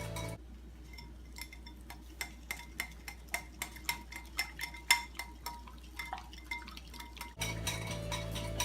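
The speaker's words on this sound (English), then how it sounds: "For the mixing process, we're just going to mix that in, get all the clumps gone." Chocolate mixture being stirred to break up clumps, a spoon clinking steadily against the bowl in a quick repeated rhythm, close and moderately loud, with no talking.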